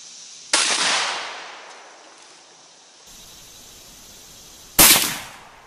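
Two sharp rifle shots from a 350 Legend outdoors, about four seconds apart, each a loud crack with a fading tail, over quiet background.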